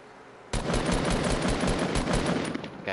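Rapid burst-fire weapon in a video game, loud and close, starting abruptly and rattling steadily for over two seconds with brief gaps near the end.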